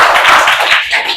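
Children clap at a school honoring ceremony, a brief, close burst of many small hands clapping together for about a second, fairly loud and without speech.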